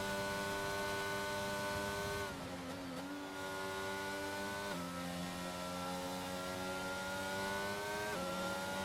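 Race car engine during qualifying at a wet Netherlands circuit, a sustained high whining drone with gear-shift steps and rising revs, steady and loud with no talk over it.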